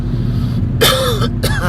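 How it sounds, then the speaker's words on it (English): A man's rough cough and throat clearing, two short harsh bursts close to the microphone over a steady low background hum. "I got that cough again."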